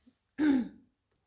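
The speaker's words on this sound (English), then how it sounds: "Hold on, I got a cough." One short, throaty cough close up, a single rasping burst that trails off quickly in otherwise quiet surroundings.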